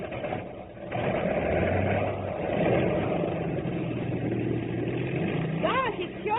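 Radio-drama airplane engine effect starts and settles into a steady mid-pitched drone, muffled and narrowband, with actors' voices speaking over the running motor.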